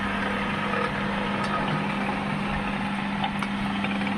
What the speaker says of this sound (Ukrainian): Сама звичайна робота двигуна.